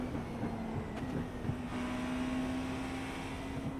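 Racing car engine in iRacing, a steady droning tone holding through with small rises and dips as the car downshifts, continuous and moderately loud, no talking over it.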